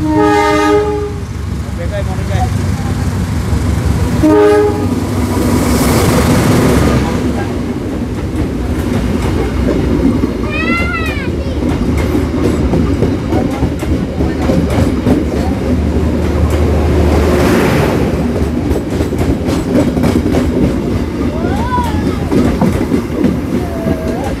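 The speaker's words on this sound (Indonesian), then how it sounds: "Suara kereta lagi." A train rumbles past close by, heard from beneath an overpass, with a steady rolling roar, horn blasts sounding early and a squealing whistle midway, people's voices faintly underneath.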